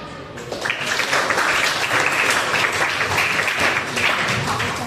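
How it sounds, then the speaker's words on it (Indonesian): A classroom audience claps together for about five seconds, a dense, bright patter that starts quickly and holds at an even, fairly loud level. "Give applause."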